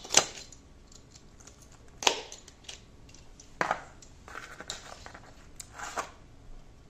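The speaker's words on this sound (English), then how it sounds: "just use my X-Acto knife to cut off the mesh" An X-Acto knife slices through the mesh backing on kitchen backsplash tile, giving a handful of short, crisp cutting scrapes spread apart at irregular intervals, close and fairly quiet.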